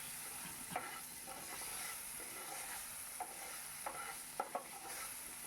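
Potatoes fry in a pan over a steady low sizzle, with a few sharp scrapes and clicks of a spoon stirring them at intervals; no voices are heard.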